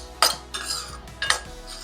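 A spoon stirring and scraping a moong dal ladoo mixture as it roasts in a pan, three quick metallic scrapes and clinks, close and dry, with no voices.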